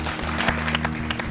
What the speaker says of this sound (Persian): بختوره که خیلی زیاد تشویقتان میکنن